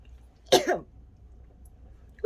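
A single short cough, close and sharp, in an otherwise quiet room, followed by the start of a voice at the end.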